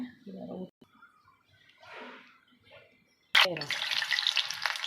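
Bonda dough balls dropping into hot oil, a sudden loud burst of frying sizzle that keeps crackling after a quieter stretch of talk.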